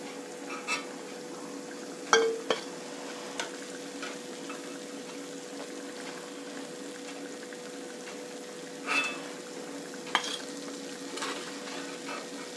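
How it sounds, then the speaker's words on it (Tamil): Badusha dough frying in hot oil for the Tamil sweet, with a soft steady sizzle broken by a few sharp clinks and taps from a utensil against the pan. "இந்த மாதிரி நம்ம எல்லாத்தையும் பொரிச்சு எடுத்துக்கலாம்"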